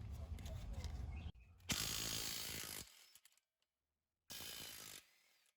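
A ratchet with a 22 mm socket works on the axle of a 2011 Toyota Highlander, giving two bursts of rapid clicking close up, separated by silence, with a lighter ratcheting run after a pause.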